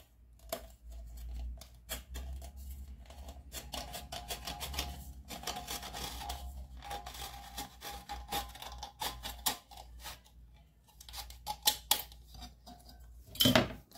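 Top being cut off a 473 ml aluminium can, a run of sharp metallic clicks, scrapes and snips in irregular bursts, close and fairly quiet, with a louder crackle of metal at the end.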